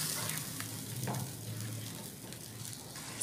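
Chicken in a blended yogurt and almond mixture cooking in a pan, a soft steady sizzle with a few faint stirring sounds, quiet and close, no talking.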